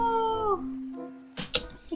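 Small cat in the video game Ancestors: The Humankind Odyssey gives a close, wavering meow that slides down and trails off, followed by brief scuffling bursts.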